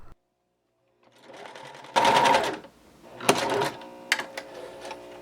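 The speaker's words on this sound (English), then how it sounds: "I lower the presser foot and stitch normally" A sewing machine stitches grain sack fabric for a table runner, running in several short bursts of rapid mechanical whirring separated by brief pauses, close and clear with no talk.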